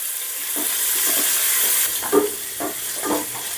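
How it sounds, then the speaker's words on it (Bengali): Chopped onions fry gently in a pan with a steady soft sizzle and hiss, broken by a few light scraping stirs. "এবার পেঁয়াজটাও আমি হালকা করে ভেজে নেব"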